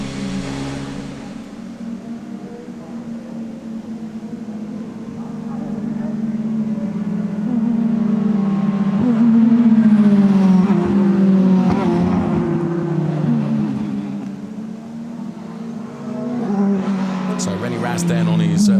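A DTM Audi race car rolls through its cool-down lap at the Lausitzring, a steady low engine drone with gentle swells of revs, heard beneath continuous commentary.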